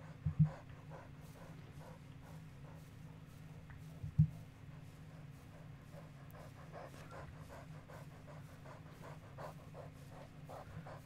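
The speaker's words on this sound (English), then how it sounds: "just walking, panting our way along" A video game character pants while walking, a faint, steady rhythmic breathing that repeats throughout, with two brief louder bumps.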